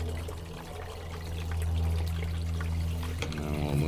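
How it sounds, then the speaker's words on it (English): Water pours steadily from a tap, a continuous splashing rush that grows a little louder and fuller partway through. "I'm going to turn the water back up."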